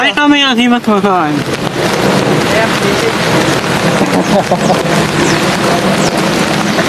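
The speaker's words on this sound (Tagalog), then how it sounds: "Umuulan. Ngayon lang ako nakapag-testing ng umuulan talaga." Rain falls steadily outdoors as a loud, continuous broadband hiss that lasts the whole stretch, with a person speaking briefly over it at the start.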